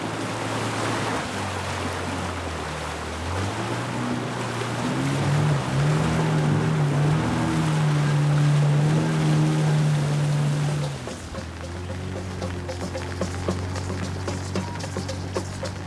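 A motorboat heading upriver on the Chagres in the Darién jungle of Panama during the dry season, its engine droning loud and close with a rising pitch midway, then settling as water rushes past the hull.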